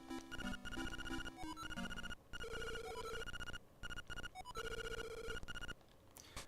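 A telephone ringing in the Link's Awakening video game, a bright repeating electronic ring with chiptune melody notes cycling in bursts, separated by short gaps, loud and alone with no talk.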